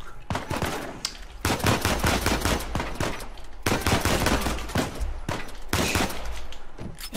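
Bursts of automatic gunfire in the video game Uncharted 4, loud rapid rattling volleys with brief pauses between them, close and dense, without clear talk.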